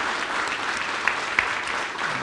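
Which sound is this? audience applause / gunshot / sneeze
audience applause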